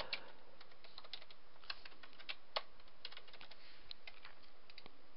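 Computer keyboard typing, quiet and steady key clicks in an irregular rhythm with a few louder taps, close and faint, with no talking.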